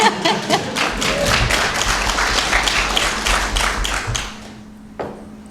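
An audience at a panel event on U.S. innovation and regulation breaks into a burst of applause, many hands clapping densely for about four seconds before it dies away to a few stray claps.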